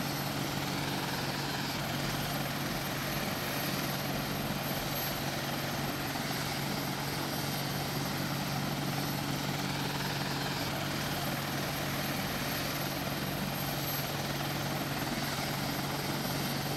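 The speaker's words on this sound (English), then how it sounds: "See, the thing is with the chopper, you want to stay low and fast." A helicopter in the video game Arma 2 flies low and fast, its rotor and engine giving a loud, continuous, unbroken whine and drone throughout.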